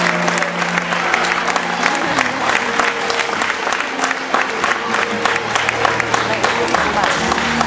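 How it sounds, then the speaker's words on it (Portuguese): Audience applause rings out at the dolphin bay of the Lisbon Zoo during a show, steady, loud clapping from a large crowd that continues throughout, with voices and other sounds mixed in. "Aplausos para os nossos convidados"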